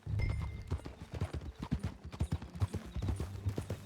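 Horse hooves clip-clop at a steady riding pace in the Western video game Red Dead Redemption. The hoofbeats are close and repeated, with no talking over them.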